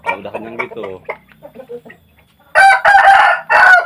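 A person talks briefly, then loud close clucking and squawking bursts from Janggaran chickens, with a rooster crowing among them.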